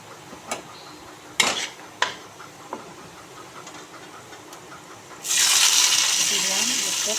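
Veg chow mein cooks in a pan, with a few sharp utensil clinks early on, then a steady loud sizzle that starts partway through and continues to the end.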